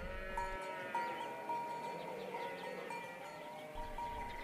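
Sheep bleating as they are roused from sleep, several overlapping calls rising and falling in a steady chorus at moderate distance, with no talk.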